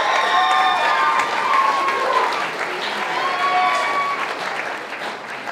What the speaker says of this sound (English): So please give a round of applause for the great guys for coming.